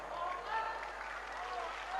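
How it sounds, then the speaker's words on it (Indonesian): Audience at a religious lecture applauding, a faint, steady wash of clapping from a crowd heard at a distance for a couple of seconds. "Tepuk tangan melulu."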